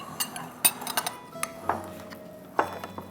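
Clinks and scrapes of a spoon against a bowl as boiled, mashed potato is stirred together with a tablespoon of lemon juice; several sharp metallic taps spaced irregularly, fairly close, no talk.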